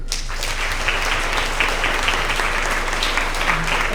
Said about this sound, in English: Let's give another round of applause for all of our English Language Arts winners.